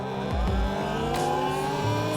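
Talaria xXx electric dirt bike accelerating on a street for a top speed run, a rising electric motor whine with strong wind rush, steady and close throughout.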